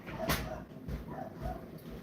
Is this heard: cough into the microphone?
no